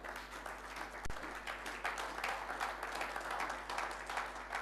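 An audience applauds steadily at a Christian worship gathering, dense clapping and some crowd noise filling the room throughout with a brief thump near the start.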